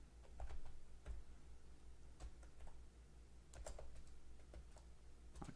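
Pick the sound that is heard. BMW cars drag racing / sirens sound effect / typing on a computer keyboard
typing on a computer keyboard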